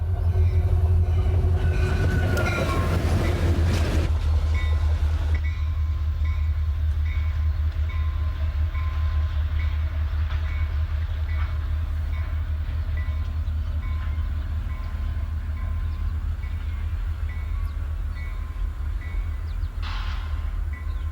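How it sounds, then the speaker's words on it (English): Heavy CSX pusher locomotives rumble past returning to Cowan, Tennessee, with a deep, steady engine drone and rattling railcar noise, loud and continuous, shifting slightly as they move by. "The pushers sound and look impatient as they return to Cowan."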